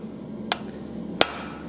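Two sharp, ringing hammer blows land on hot metal at the edge of a blacksmith's anvil, spaced about a second apart, loud and close over a low steady background.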